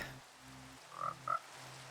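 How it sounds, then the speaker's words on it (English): A frog gives two short croaks in quick succession over a quiet, humming background. "Is it frog? Ooh. Hello, froggy."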